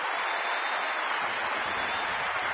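A baseball crowd at Dodger Stadium applauding a player heading into the dugout, a dense, even wash of distant clapping and crowd noise held steadily throughout.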